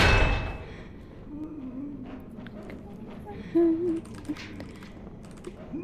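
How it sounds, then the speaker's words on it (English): A computer keyboard clatters with soft, irregular clicks in quick bursts, close by, while a voice briefly sounds in the background. "You might hear my keyboard."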